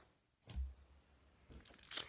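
A small plastic packet crinkles as it is handled up close, with two short bursts of rustling and crackle separated by a quiet pause.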